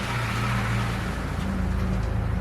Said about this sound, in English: there went a truck just drove by with just full of snow in the back of in the bed